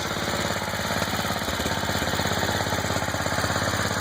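A restored 1946 Cleveland Welding Whizzer Roadmaster motorbike engine running close by, giving a fast, steady, rhythmic chugging that holds an even beat throughout; no one speaks.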